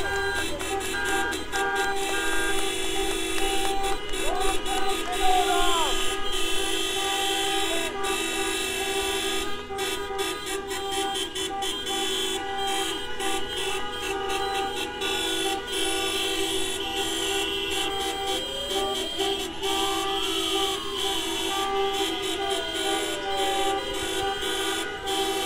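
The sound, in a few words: car horns honking at street protest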